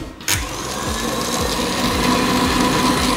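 An electric mixer whips meringue with a steady, close whirring drone that starts abruptly with a clack and then runs continuously.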